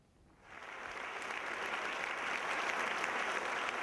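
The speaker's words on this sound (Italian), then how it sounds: "Un applauso commosso, ma soprattutto sincero per Aurora." Audience applause at the Premio della Bontà Sant'Antonio award ceremony in Padua, rising sharply after a quiet start into sustained, dense clapping from a large crowd, steady and loud with no voices over it.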